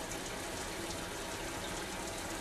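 Water runs steadily from a tap in a continuous, even gush, with no voices.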